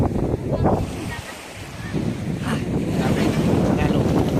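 Sea waves and wind at a beach in Puerto Galera, a continuous rushing surf with heavy wind buffeting the microphone, loud and steady from start to end.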